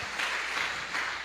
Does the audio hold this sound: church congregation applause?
yes